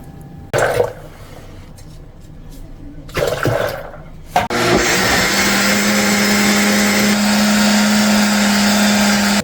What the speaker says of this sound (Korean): 그래서 바로 솥에 붓고 나머지 콩도 부지런히 갈겠습니다.